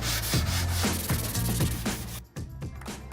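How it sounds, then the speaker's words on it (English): A sanding block rubs back and forth across deep scratches in a wooden door frame, a steady rasping scrape in repeated strokes close by, with a brief pause near the end before sanding resumes. "I'm gonna use a sanding block and try and sand this smooth"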